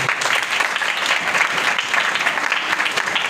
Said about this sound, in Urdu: سو میں چاہتا ہوں کوائر کے لیے بھی زوردار تالیاں بجائیں گے